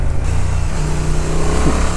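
Honda Transalp 750 twin-cylinder motorcycle engine pulling hard at high revs while riding, loud and steady with heavy wind rush throughout, no talk.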